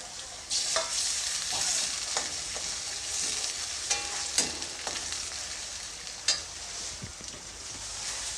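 Chopped large tomato sizzling with softened onions in a frying pan, a steady hiss broken by scattered spoon scrapes and stirring clatters, close and fairly quiet.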